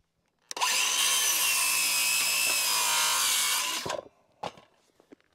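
A power saw cuts a board of wood for barn siding on a homestead, one continuous loud, close whining cut of about three seconds, ending abruptly, followed by a few knocks and clatters.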